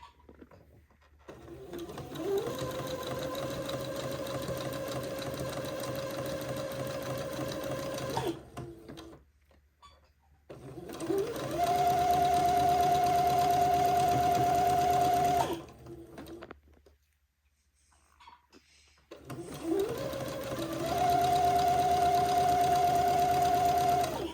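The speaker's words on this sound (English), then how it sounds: "And then I will proceed to zigzag the sashing to the lace panel." A domestic sewing machine zigzag stitching a lace panel to fabric sashing runs in three steady whirring bursts, each rising to a constant mechanical hum with fast needle clatter, separated by short pauses.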